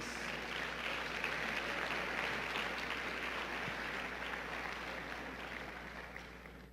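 A church congregation at a Spanish-language Sunday service bursts into sustained applause, a dense wash of many hands clapping together in a large room that gradually fades toward the end.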